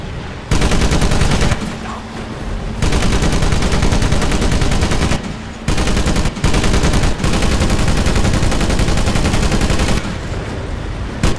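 A .50 caliber machine gun fires in the video game Medal of Honor Pacific Assault during a beach assault on a reef and pier, with long, loud, continuous bursts broken by short pauses.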